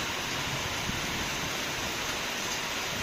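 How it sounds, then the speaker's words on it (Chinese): Heavy nighttime rainstorm pounding a shelter roof above a parked camper van, an unbroken loud roaring wash of rain with no pauses and no voices. "这大暴雨，哦哟，"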